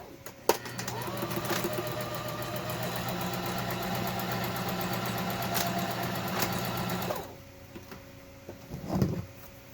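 A sewing machine runs a quarter-inch seam on a fabric face mask, a close, steady motor whir with a fast stitching rhythm that lasts about seven seconds, then stops, followed by a brief handling noise.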